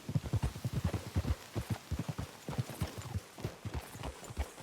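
Steady clip-clop of horse hooves trotting on hard ground in Red Dead Redemption II, a quick repeating rhythm at moderate distance with no talking.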